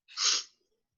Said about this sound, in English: That was such a dainty sneeze